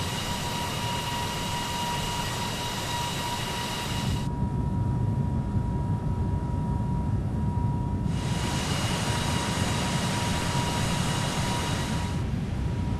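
Steady, dense roar of Airbus A320neo (A21N) jet engines in cruise flight in a flight simulator, broadband rushing noise with a constant tonal whine and a shifting hiss, continuous with no talk.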